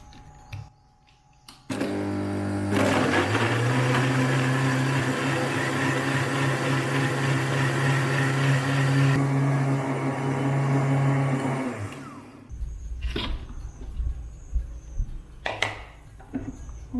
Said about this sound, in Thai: แล้วเราจะปั่น